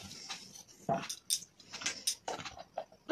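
Onions and green chillies being cut in a bowl give a run of sharp, irregular metallic clicks and scrapes, close by and fairly loud, with brief pauses between strokes.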